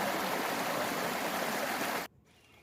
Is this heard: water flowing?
yes